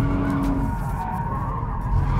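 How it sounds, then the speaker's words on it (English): Tires on a Porsche sports car squeal steadily as it slides into a big drift, a loud continuous skid heard up close. "and you'll get a big, nice drift"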